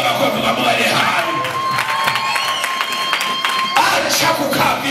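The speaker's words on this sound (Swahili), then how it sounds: "Piga makofi kwa Mungu aliye hai." A church congregation claps loudly amid cheering and shouting, with a dense, continuous crowd roar and excited voices rising over the clapping from start to finish.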